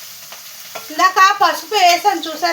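Spices and turmeric sizzling while being tempered in hot oil in a home kitchen, a steady crackling fry under someone talking in Telugu across most of the clip.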